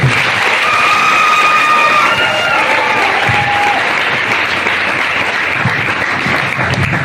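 Loud, sustained applause fills the room from a large audience at a motivational sharing event in Sambalpur, with a few whistles and scattered cheers running through it.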